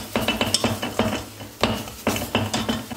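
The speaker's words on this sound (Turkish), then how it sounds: "Böyle unla birlikte biraz kavrulsun istiyorum arkadaşlar. Biraz şöyle karıştırayım." A spoon stirring flour as it toasts in a pot, giving repeated close scraping and tapping strokes in an irregular rhythm, with no talking.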